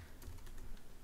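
A few quiet keystrokes on a computer keyboard, typing a short terminal command, a soft rapid cluster of clicks close by.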